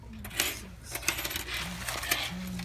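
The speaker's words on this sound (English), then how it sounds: "How many coins we got there?" Coins from a pouch in a Valiant 4001 AD time capsule jingle and clink against each other as they are handled, a continuous scattered metallic rattle with sharper clicks, close and fairly loud.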